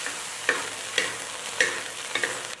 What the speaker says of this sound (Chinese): 这个时候淋入少许的水淀粉勾芡